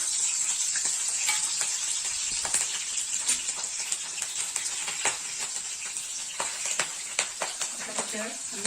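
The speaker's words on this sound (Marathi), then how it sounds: "पण त्याच्यासाठी मिरच्या तळून घेऊया।" Green chillies fry in a hot pan with a steady, close sizzle and scattered crackling pops throughout, with no talking.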